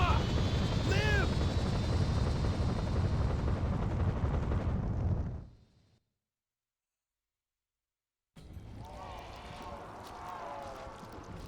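A helicopter in a video game cutscene gives a loud, dense rotor roar that fades out into a couple of seconds of silence, after which the scene resumes with quieter noise and voices.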